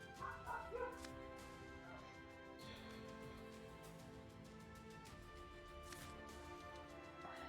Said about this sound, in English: Dogs have been crazy lately.